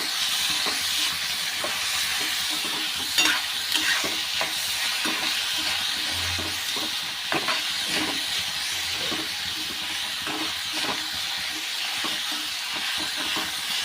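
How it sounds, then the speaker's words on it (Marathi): Onion, tomato and curry leaves sautéing in a pan for a spicy soybean curry, giving a steady close sizzle and hiss with scattered stirring scrapes and clicks throughout, with no voice. "आणि टोमॅटो छानपैकी परतून घेऊया"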